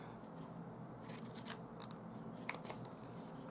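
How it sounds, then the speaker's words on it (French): Scissors snip small paper tabs off a scalloped card, a few faint, sharp cuts spaced irregularly over a low, steady background hiss. "à l'aide de nos ciseaux, nous allons tout simplement couper les petites languettes"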